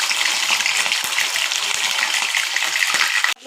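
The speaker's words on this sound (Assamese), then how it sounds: "তেলখিনি গৰম হৈ গ'ল। এতিয়া মাছ দি দিলোঁ।" Fish sizzling as it drops into hot oil for an Assamese tenga fish curry, a loud continuous crackling hiss that fills the moment and cuts off abruptly at the end, with no speech.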